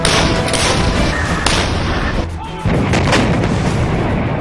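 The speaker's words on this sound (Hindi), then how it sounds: "एक साथ 2 हावित्जर तोप की लाइव फायरिंग आपको यहाँ पर दिखा रहे हैं।" Two howitzer artillery guns fire live together, producing loud, continuous booming blasts that roll on for several seconds. A brief dip follows, then the heavy rumble resumes.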